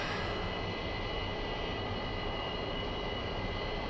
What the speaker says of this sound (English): We're going to let the aircraft just fire up.